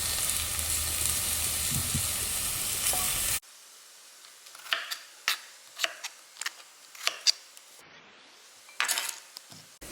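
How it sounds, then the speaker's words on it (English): Carrots, celery and onions sauté in a pan. A steady close sizzle runs for a few seconds, then a spoon stirs with a string of sharp scraping clinks against the pan over a quieter background. "let's saute them for about 5-6 minutes, gently stirring them once in a while."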